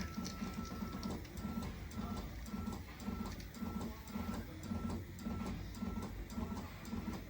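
A new carpet-cleaning sprayer pump runs with a steady rhythmic mechanical chugging, pulsing about twice per second at a fairly low, close level, with no talking.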